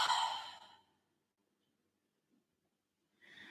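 An open-mouthed exhale during a yoga breathing exercise, a breathy sigh at the start that fades to silence before a second exhale begins near the end.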